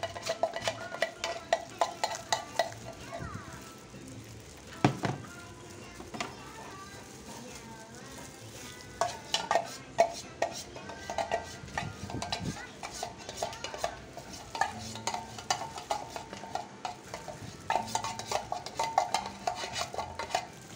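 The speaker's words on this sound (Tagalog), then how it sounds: "Ngayon guys, sa halo-haloin natin si mga ingredients." A spoon stirring graham ball ingredients in a bowl, with busy irregular scraping and clinking against the dish throughout, a voice talking quietly underneath.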